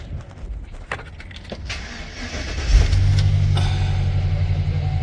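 A car jump-started with an Acmount W160 jump starter cranks briefly, then fires up with a sudden surge and settles into a steady, close idle hum.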